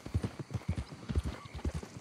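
Horse hooves gallop in Red Dead Redemption 2 in a quick, rhythmic clip-clop of heavy, low thuds. They sound close and carry on steadily, with no talk over them.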